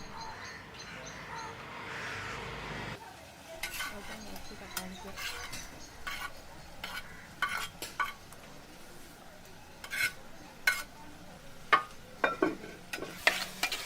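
Onions, tomato and curry leaves are sautéed together in a pan, with a soft sizzle beneath frequent sharp clinks and scrapes from a stirring spoon that grow louder toward the end.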